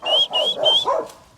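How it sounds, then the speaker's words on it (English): A dog barks in a yard, four quick loud yapping barks close by, ending in a short trailing whine. "if you whistle, you'll hear him barking like this"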